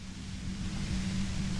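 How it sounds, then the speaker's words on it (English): A steady wash of white noise plays in Genshin Impact, a constant broadband hiss with a low hum underneath, unchanging and alone throughout. "I'm sorry about the white noise, it's part of this game right here."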